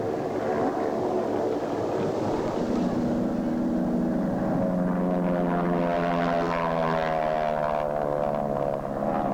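A 650-horsepower Pratt & Whitney radial-engined aircraft at full throttle in hot Texas weather makes a steady, loud propeller drone with a rising, shifting pitch, with no one talking.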